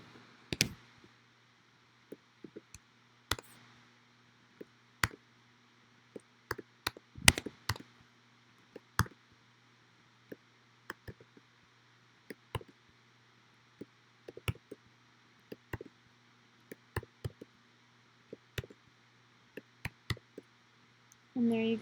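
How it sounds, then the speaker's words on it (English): Sharp, isolated computer mouse clicks, some in quick pairs like double clicks, scattered across the stretch at an irregular pace over a faint steady hum, close and quiet. "you can click on your shape, you can double click on it"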